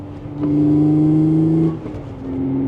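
Engine of a 2016 Audi S5 with a manual gearbox and stage 3 clutch revs hard, drops off at a shift and pulls again, loud and steady from inside the car.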